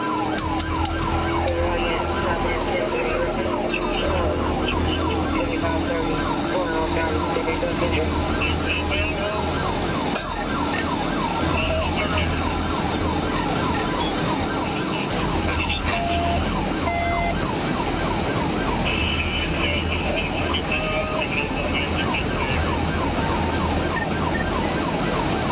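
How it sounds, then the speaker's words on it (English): Police and emergency sirens wailing continuously through a high-speed chase, loud and steady over constant road and engine noise, with voices speaking faintly underneath. "The sheriff immediately activated the sirens and radioed for backup"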